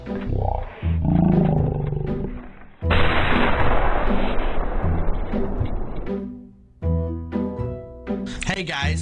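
Counter-Strike: Global Offensive gunfire during a pre-fire, heard as a loud, dense stretch of rapid shots lasting a few seconds. Chaotic game noise and voices come before and after it.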